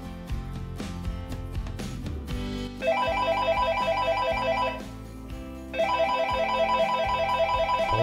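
A mobile phone rings with an incoming call, its melodic ringtone looping in a repeating pattern, pausing briefly, then starting again, clear and close with no one speaking.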